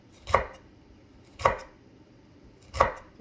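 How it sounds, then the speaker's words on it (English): A knife slices celery on a cutting board at a slant for pancit bihon and canton, making three distinct chops spaced about a second apart, close and fairly quiet with no talking. "Make sure all the celery is sliced like this, slant"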